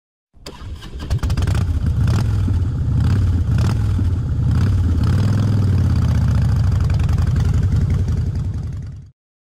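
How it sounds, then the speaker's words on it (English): Motorcycle engine idling loud and close, a continuous low throbbing rumble with slight rises in revs, lasting several seconds alone before stopping sharply. "Motorcycle."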